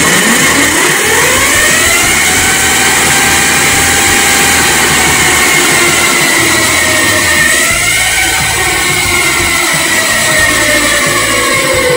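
An electric quad bike conversion motor spins at speed, turning around 4,500 RPM, giving a loud sustained whine with tones that rise and shift while the wheels spin, heard up close without speech.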